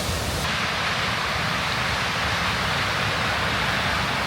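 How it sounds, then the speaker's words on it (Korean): Kirkjufellsfoss waterfall in Iceland roaring close by, a dense, steady broadband rush that fills the whole stretch without pause. "폭포에 근접해서 촬영하고 있는데요"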